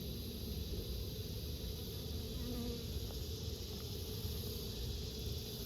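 Bees from a colony nested in brickwork buzz steadily during a hive removal, a continuous close drone with faint insect hum throughout.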